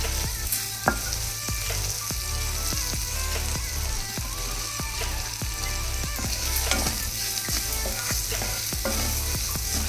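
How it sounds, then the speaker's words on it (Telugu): Rice being mixed in a hot pan of masala for a lunch box dish, a steady close sizzle with a run of soft, regular scraping strokes from stirring underneath, continuous throughout with no talking. "దీంట్లో వేసి మిక్స్ చేసుకోవాలి"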